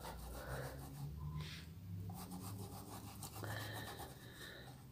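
A small paintbrush held upright dabbing and rubbing paint onto fabric, soft close scratchy strokes repeating quietly, with no talking.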